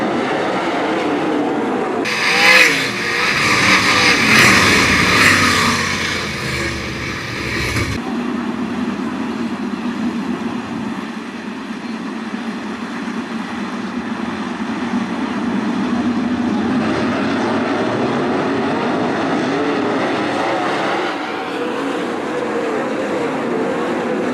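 410 sprint cars roar around the dirt oval at Attica Raceway Park, a loud sustained engine drone with a burst of higher-pitched racket early on, steady and close throughout.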